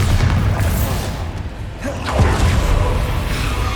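Explosive spell impacts from Confringo and Bombarda in Hogwarts Legacy, dull booming blasts with rushing whooshes over a continuous rumbling battle din, loud and close.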